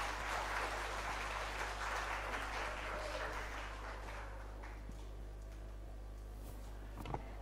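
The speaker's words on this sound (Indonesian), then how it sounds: "Mari kita beri aplaus kepada beliau." A seminar audience applauds to welcome a speaker, clapping densely for several seconds before thinning to scattered claps over a steady low hum in the hall.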